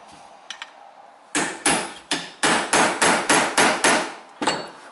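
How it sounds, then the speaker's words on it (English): Sharp metallic hammer blows on a knife wedged into the seam of a BMW electric engine coolant pump, about ten loud, close strikes in an uneven rhythm. "now I need again my knife that I insert that in this line, and then little bit hammering"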